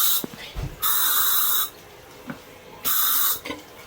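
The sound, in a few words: spraying disinfectant spray on a toilet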